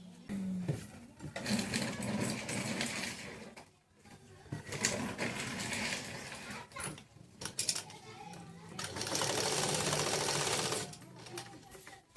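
A sewing machine stitches a border onto fabric with a fast, steady whir that runs through most of the clip, pausing briefly once. Faint voices and bird coos sit in the background.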